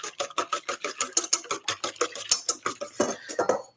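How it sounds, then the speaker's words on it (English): Eggs whisked quickly in a bowl to break the yolks for simple pancake batter, a rapid, even run of close clicking strikes of the whisk against the bowl sides, with no talk. "So then what we do is we whisk it up quickly,"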